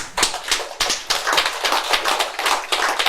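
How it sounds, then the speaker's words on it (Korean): A short run of hand clapping at a Korean dharma talk, steady overlapping claps for about three seconds, fairly close and with no voices over it. "박수"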